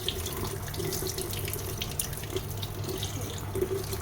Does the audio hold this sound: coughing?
no